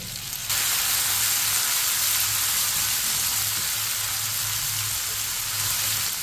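Finely chopped tomatoes hitting a hot pan of okra for bhindi fry, setting off a sudden, steady hiss of sizzling that holds loud and even after a quiet start, with no voices.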